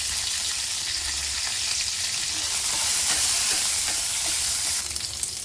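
Mustard seeds, curry leaves and cumin sizzle in hot oil for a vada pav filling, a steady, close, continuous crackling hiss with no talking.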